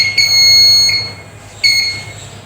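Super Scanner handheld security metal detector emitting sharp electronic beeps, three distinct tones with a steady high whine between them, close and fairly loud with no talking.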